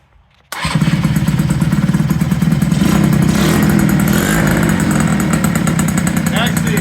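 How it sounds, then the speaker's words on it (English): A Yamaha CV80 80cc scooter with a new exhaust and carburetor fires up after a brief quiet moment, then settles into a loud, close, steady idle with a rapid puttering rhythm. "I'm going to show you the new exhaust and how it runs with the new carburetor."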